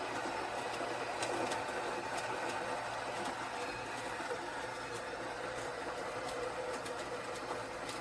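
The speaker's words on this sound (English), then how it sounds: "let's go ahead and just grind everything" A Breville BES870XL espresso machine grinds fresh coffee beans with its built-in burr grinder, a loud steady whirring buzz running nonstop close up, with faint crackles from the beans and no speech.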